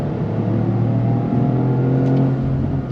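A 2025 Toyota GR Corolla with an 8-speed automatic accelerates steadily, its engine drone holding a strong, even note for about three seconds without any talk.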